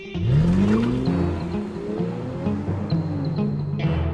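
An Aston Martin engine revs hard and climbs in pitch, then holds a loud, throaty rumble with a few quick blips of throttle throughout.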